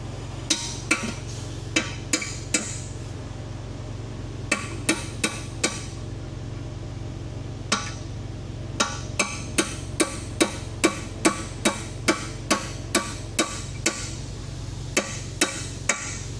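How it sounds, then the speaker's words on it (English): Sharp metallic air-hammer blows on a 1973 Ford F100 truck frame ring out in bursts, some rapid clusters and some single strikes, over a steady low hum of machinery. "Hammer. The air hammer?"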